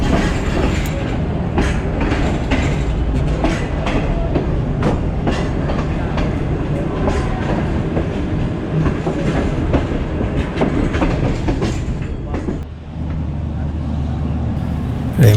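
Shalimar Express passenger train running on the rails between Karachi and Multan, heard from inside a carriage as a loud, steady rumble with rhythmic wheel clatter throughout, briefly dipping near the end.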